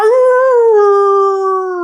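A single long, loud canine howl holds a steady mournful pitch with rich harmonics, gently falling toward the end with no talk over it.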